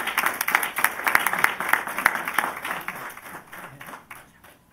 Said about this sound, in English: So let's applaud their efforts.